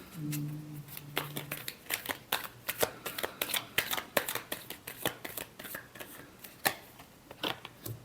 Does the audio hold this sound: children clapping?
no